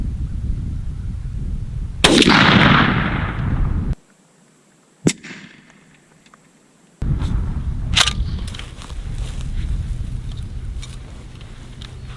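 A shotgun fires a turkey load, Winchester Longbeard XR or Federal TSS, outdoors. A loud, sharp blast rings out and decays, then a brief quieter stretch, another single sharp crack, and steady background noise returns.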